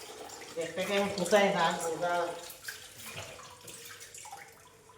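Tap water runs and splashes steadily while fish is washed at a market, loudest early on and then tapering, with a person talking over it.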